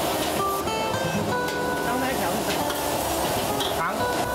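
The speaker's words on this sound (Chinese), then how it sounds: "一起大火爆炒。" Shrimp stir-fried over high heat with lard and scallions in a busy open restaurant kitchen, a loud continuous sizzle under tonal clatter of wok and utensils, with a voice talking over it.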